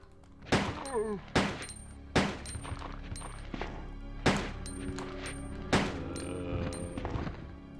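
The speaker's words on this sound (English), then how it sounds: "I've had too much fun shooting zombies" In Resident Evil 2, shots fired at zombies ring out as about six loud, separate reports spaced over several seconds, each with a short echoing tail, under a low background hum.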